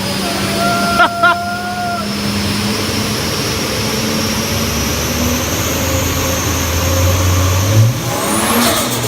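A Ford Falcon FG XR6 Turbo runs on a dyno, its loud steady engine drone building as the revs climb sharply near the end, with shouting voices over it.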